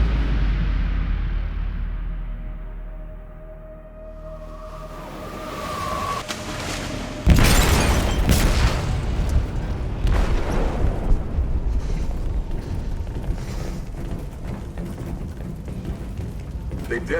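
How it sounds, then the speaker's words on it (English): An explosive detonating in a ship's hold in Detroit: Become Human, a sudden heavy boom cutting in after a tense low rumble and tonal ambience, followed by a long rumbling, crackling aftermath. "They detonated an explosive in the hold."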